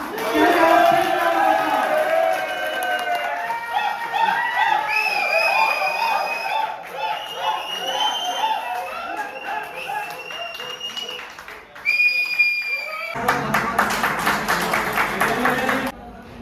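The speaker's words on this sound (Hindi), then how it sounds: "सब 5 मिनट तालियां बजाओ" An audience at a company foundation day celebration claps and cheers loudly and continuously, with shouts rising over the applause, a brief dip, then a renewed burst.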